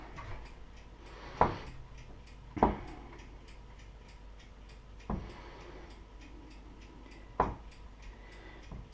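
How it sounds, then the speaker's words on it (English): A darkroom timer ticks steadily during photographic printing, with a few louder clunks at irregular intervals, close and clear with no talking. "over here now, timer, and I can hear it ticking away"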